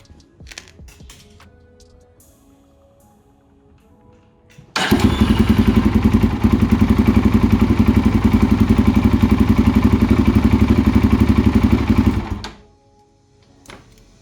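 A Polaris Predator 500 quad bike engine starts and runs loudly and steadily close by for several seconds, then cuts off with a brief hiss of air as it dies away, leaving quiet.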